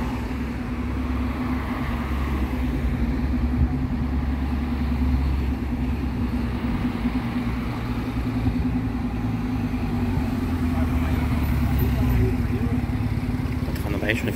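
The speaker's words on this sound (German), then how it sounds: "Da fahren aber echt schon viele Autos." Traffic on a street in Mallorca, Spain, with buses and cars rumbling past in a continuous low engine drone, and people talking intermittently over it.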